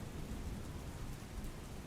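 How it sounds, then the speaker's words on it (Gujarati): Heavy early-morning rain pours down steadily over Ahmedabad, a dense, even hiss of water beating on surfaces that holds close and loud throughout, with no voices. "ભારે વરસાદ અમદાવાદમાં વરસી રહ્યો છે"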